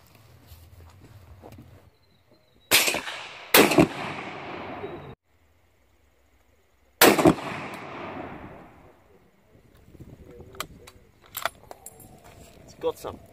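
Several loud, sharp firearm shots sound at a range, spaced a few seconds apart, each with a trailing echo, and people talk between them.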